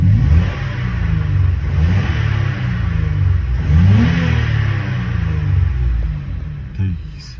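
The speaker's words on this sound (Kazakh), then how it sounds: "Азыр машина жүрүп турат." A repaired car engine runs on after a valve fault was fixed, a loud close idle that rises and falls in a few gentle revs, sounding smooth and even, with a faint click near the end.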